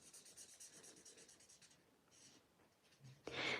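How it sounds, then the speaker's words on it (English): Colouring pens scratching across paper during a Stampin' Up! paper-piecing craft, soft repeated rubbing strokes in short bursts, then a brief pause and a louder final rustle. "These are my favourite colouring pens"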